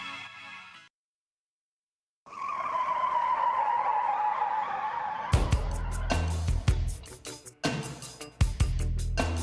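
A car skids with a long, loud tire squeal that opens a song on a sports radio broadcast, after a brief burst and a short silence, then gives way to heavy, punchy music hits.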